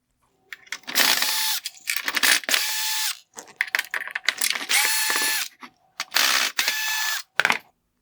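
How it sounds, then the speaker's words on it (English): Whirring and ratcheting of a driver backing out Phillips head screws from the lower LED unit of a 2019-2021 Lexus GX460 OEM triple LED headlight, in several close, loud bursts of about a second each, with short pauses between. "I will begin by removing the Phillips head screws holding on the lower LED unit."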